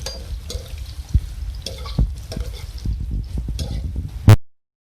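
Green chillies and onion frying in hot oil for Hyderabadi fry bhindi, a steady close sizzle with stirring clatter and light spatter pops, ending in a sharp clank before sudden silence.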